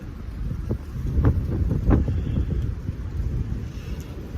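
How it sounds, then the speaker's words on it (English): Strong wind blows steadily at a forest hot-tent campsite, with loud low buffeting against the microphone and a few sharper gusts rising and falling over about four seconds. "That sounds like we're in a wind tunnel. It is windy."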